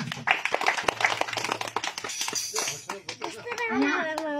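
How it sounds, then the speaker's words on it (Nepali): A congregation claps in a church gathering, a patter of scattered handclaps that swells and fades, mixed with voices and speech over it. "परमेश्वर पितालाई समन सरको जोरदार ताली।"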